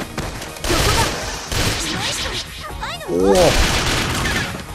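Rapid gunfire from the PS Vita shooter Bullet Girls 2, a close, busy burst of shots and impacts with game effects, mixed with a voice exclaiming over the action.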